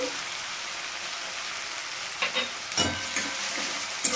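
A medium-sized tomato fries with ginger, onion and garlic in a pan, giving a constant soft sizzling hiss, broken by a few brief scrapes and taps of stirring.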